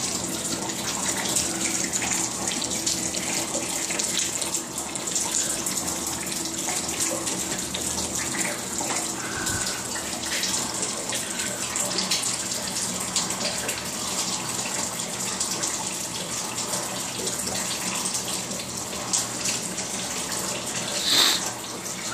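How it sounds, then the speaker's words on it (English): Roof leak water pours steadily into a 55-gallon plastic drum indoors, a loud continuous splashing gush like a running tap, with no speech over it. "So we're catching it in a 55-gallon plastic drum, or most of it. And when we're not catching, it's going on the floor."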